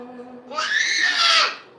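A woman's loud, high-pitched scream rises sharply after a brief lower vocal tone and holds for about a second before fading, close and strained.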